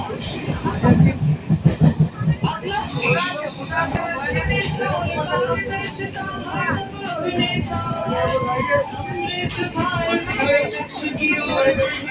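A train pulling into Naihati station, rumbling and clattering with squealing wheels. A crowd chatters and voices talk over the noise the whole time.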